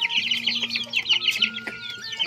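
Pelung chickens cluck and call close by in a village in Garut, West Java, with busy overlapping clucks and chirps and no talking.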